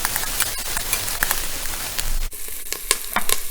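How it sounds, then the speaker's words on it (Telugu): Onions fry in a pan for a black-eyed peas curry, giving a steady close crackling sizzle. A few spatula stirs and taps break through it. "ఆనియన్స్ కూడా ఫ్రై అయిపోయినాయండి."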